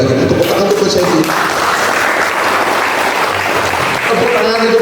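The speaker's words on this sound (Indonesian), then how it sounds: "Tepuk tangan untuk Coach Edi." Audience applause at a leaders' gathering, a steady wash of clapping filling the hall for several seconds while a voice talks over it.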